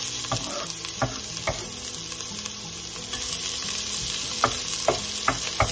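Garlic and onion sauté in a pan, sizzling steadily up close while a utensil stirs and scrapes in sharp, irregular clicks against the pan.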